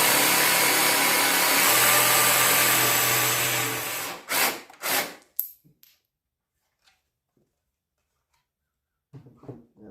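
A power saw, such as a jigsaw, cuts off glued wood pieces, whining steadily for about four seconds before stopping, followed by a few short bursts and near silence with faint handling noises.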